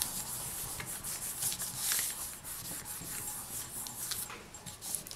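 Close, steady rubbing and scraping of a tool burnishing polymer clay, with brief brighter scuffs over a continuous low rasp.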